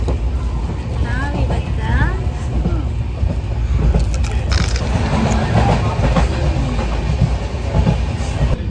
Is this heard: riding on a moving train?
yes